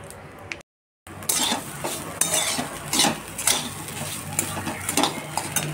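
Ingredients roasting in a pan on a home stove, stirred with a metal spoon that scrapes and clinks against the pan in an irregular rhythm. A faint sizzle sits underneath, and a brief silent gap breaks it near the start.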